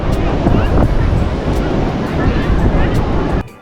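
Ocean surf breaking on the beach at Cox's Bazar, Bangladesh: loud, close wash of waves with wind buffeting the microphone, cutting off abruptly near the end.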